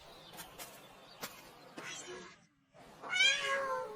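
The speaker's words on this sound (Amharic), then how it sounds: "የድመት ድምፅ ይመስለኛል።" A small, injured kitten mews softly a couple of times, close and quiet, with short pauses between the cries.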